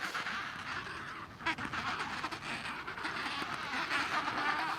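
An Adelie penguin breeding colony with adults feeding their chicks: a dense, continuous chorus of harsh squawks and brays, loud and close, with no pauses and no talking.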